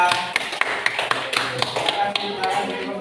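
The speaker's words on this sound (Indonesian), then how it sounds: "Beri tepuk tangan buat kelompok 1 yang meriah." Classroom applause for a student group, a crowd of children clapping in a steady patter of sharp claps with a teacher's voice over it.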